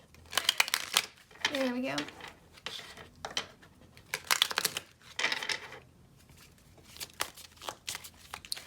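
Someone shuffles a Love Oracle tarot card deck, giving bursts of crisp riffling and card slaps with pauses between, close and fairly quiet, while a person speaks briefly over it.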